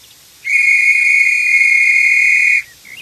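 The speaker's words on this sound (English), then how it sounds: "The train driver, Robin, and Daisy blow their whistles." A single loud, steady whistle is blown for about two seconds, piercing and close, with no voices around it.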